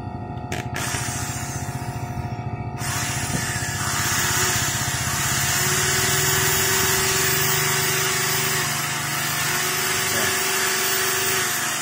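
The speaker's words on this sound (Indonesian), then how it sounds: "Terus pakai bor tuh begitu tuh." A power drill whirs steadily, spinning a motorcycle engine valve with a 5 mm stem to lap it against its seat, the motor holding a continuous high-pitched drone after a few brief stop-start bursts, close and loud with no one speaking.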